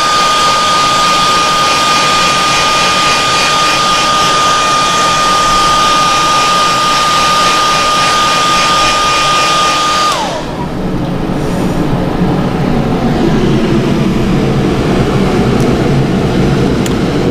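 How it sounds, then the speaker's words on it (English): A loud heat gun blows steadily while heat-setting paint on a fishing lure, a close roaring hiss with a whining tone that drops and shifts partway through as the airflow changes. "I am going to give this a basic heat set."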